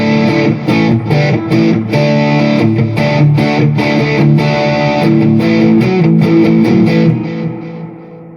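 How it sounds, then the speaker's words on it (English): A distorted electric guitar plays chords and notes through a Positive Grid Spark 40 amp's overdriven drive, loud and gritty, ringing out before fading at the end. "Now we're just using the amps distortion or whatever, the amps sort of drive."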